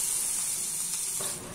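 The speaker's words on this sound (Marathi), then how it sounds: "आता यामध्ये मिरची आणि लसूणची पेस्ट घालते।" Green chilli and garlic paste sizzles in a hot tempering of asafoetida, turmeric and curry leaves, a short, steady hiss close by that softens near the end, with no talking.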